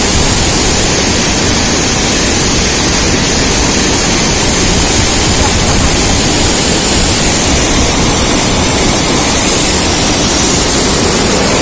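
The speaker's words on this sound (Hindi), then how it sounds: "थोड़ी ही दूरी पर हमें ये सुंदर सा वाटरफॉल मिला" A scenic waterfall reached on a mountain trek, roaring as a loud, steady broadband rush of falling water that fills the whole stretch without a break, close and alone with no voices.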